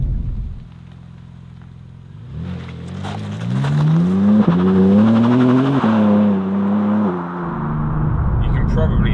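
BMW M4 CSL on a British road, its engine droning low at a steady cruise, then climbing through a rising rev sweep with shifts and falling back, loud from inside the cabin with road rumble underneath.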